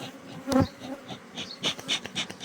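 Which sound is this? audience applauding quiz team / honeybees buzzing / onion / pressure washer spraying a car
honeybees buzzing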